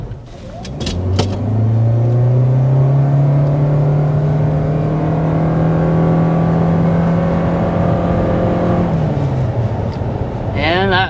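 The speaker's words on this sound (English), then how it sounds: "we will start out with a hard acceleration to see what this Corolla Cross Hybrid is capable of" A 2023 Toyota Corolla Cross Hybrid accelerates hard toward 60 mph, its engine note rising quickly and then holding a steady, loud drone for several seconds before easing off near the end.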